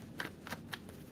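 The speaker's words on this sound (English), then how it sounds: "All right, 2 shuffles." A tarot deck gets shuffled close by in three or four quick riffling bursts, soft but crisp, with no talking.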